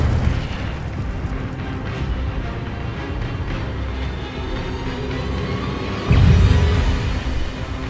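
An Incendio fire spell in Hogwarts Legacy gives a dense, roaring rumble of magical combat that runs throughout, swelling into a louder burst near the end, with no voices.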